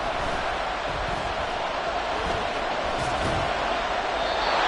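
Roaring stadium crowd at a Saints football game late in the fourth quarter, a dense, sustained wash of cheering that stays loud and even throughout.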